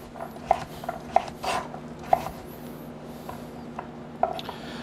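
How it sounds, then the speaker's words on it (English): A knife cuts through a butternut squash with a few sharp, scattered knocks and scrapes on a cutting board, fairly close and moderately quiet over a low background hum. "I think I can just run a knife right through this."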